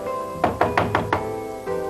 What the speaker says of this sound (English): At 7:45, Paul starts knocking at the door.